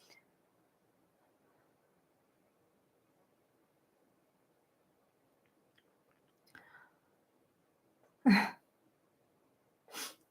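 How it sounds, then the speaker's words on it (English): A single short, sharp sneeze bursts out of near silence, followed a moment later by a softer second burst, with faint rustling earlier on. "Oh my gosh, I'm gonna sneeze."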